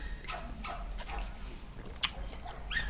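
Neighbourhood dogs barking and yipping at a distance, several short bursts scattered through a quiet indoor room with a low background hum.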